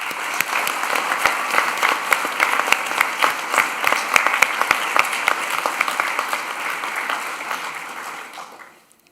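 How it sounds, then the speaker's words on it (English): Graduation ceremony audience for a social work, law and criminology class gives a long round of applause, dense even clapping with a few louder nearby claps, building and then fading out near the end. "please join me in a round of applause to show our appreciation"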